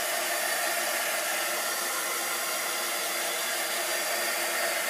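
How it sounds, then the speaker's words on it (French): A heat embossing tool dries wet ink on paper for a crafting project, giving a steady, close, unbroken whirring hiss of hot blown air that holds at the same level throughout. "vous pouvez aussi l'accélérer au fer embossé"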